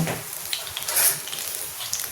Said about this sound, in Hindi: इसको ऊपर हम थोड़ा सा तेल डाल देंगे जिससे इसकी बैंडिंग हो जाए अच्छी सी